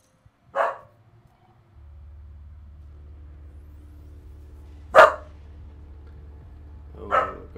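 A dog named Molly barks three separate times, single sharp barks a few seconds apart, heard at moderate distance over a low steady engine-like rumble.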